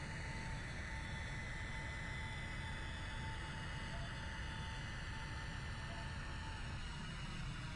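A small airplane taxis in after landing at an air show, its engine a steady, continuous drone with a faint constant tone, heard alone without talk.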